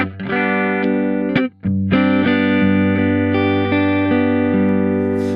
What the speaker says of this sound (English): I am starting here with a pretty simple Marshall emulation